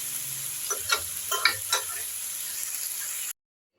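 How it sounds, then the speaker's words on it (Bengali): Red amaranth greens fried with brinjal and lentil dumplings sizzle steadily in a wok. Several close scraping stirs come in quick bursts over the hiss, which cuts off abruptly near the end. "শাকটাকে আরেকবার নাড়াচাড়া করে নিচ্ছি।"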